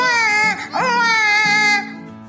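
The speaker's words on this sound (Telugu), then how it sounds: "బాబు గట్టిగా ఏడుస్తూ ఉంటాడు" A baby cries loudly and steadily in a wailing, tonal cry that dips briefly in the middle, then trails off into quieter whimpering at the end. No other voices are heard.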